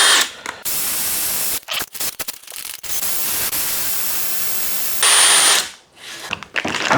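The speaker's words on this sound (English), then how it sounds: "I'm going to run the flex hone down here all the way now and see how we're looking then." A flex hone spins inside a bicycle seat tube after a broken carbon seatpost is removed. It gives a harsh, steady power-tool whir in several long stop-start bursts, loud and close, with no voices.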